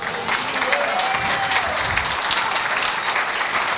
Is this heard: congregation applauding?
yes